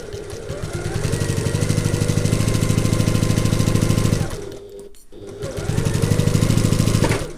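A sewing machine runs in fast, even bursts of rapid needle clatter while back stitching a seam, pausing briefly in the middle before starting again, close and loud.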